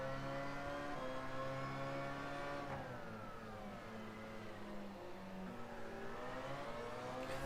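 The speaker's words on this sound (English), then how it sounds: "Oh, I love the sound of the electrics." A hybrid race car's electric drive accelerates under steady engine tone, with layered rising and falling whine harmonics that dip mid-clip then climb again, loud and continuous with no talk.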